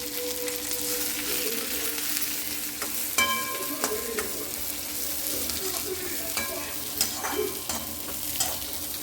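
Mint leaves frying and being stirred in a pan for pudina powder: a constant dry crackle and sizzle with intermittent scraping and tapping of the spoon, moderately close and fairly quiet.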